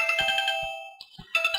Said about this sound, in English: I should have kept my phone on silent.